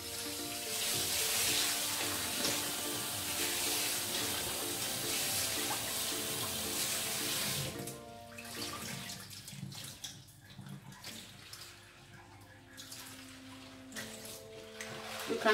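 Water runs and splashes steadily from a tap onto spinach for several seconds, then eases into quieter trickling with some soft handling clatter.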